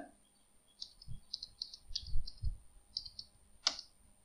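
Typing a search into a computer web browser: a few quick, light keyboard clicks in a short burst, then a sharper final click, faint in a quiet room with no talk.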